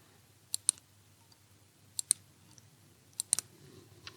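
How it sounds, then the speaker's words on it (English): The trigger switch on a Daystate AirWolf air rifle clicking during reassembly, three pairs of small, crisp, close clicks spaced about a second and a half apart in an otherwise quiet room. "we'll also listen out for the click of the switch"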